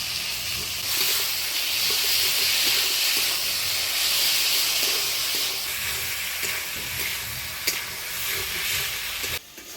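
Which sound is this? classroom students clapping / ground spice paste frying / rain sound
ground spice paste frying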